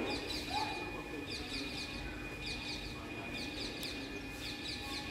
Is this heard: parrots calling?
yes